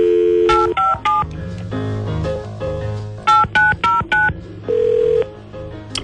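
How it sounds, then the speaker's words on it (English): A telephone keypad sends a rapid series of loud touch-tone beeps, several quick pairs of tones in two bursts with a longer tone near the end, heard clearly without talk. "let me dial him up"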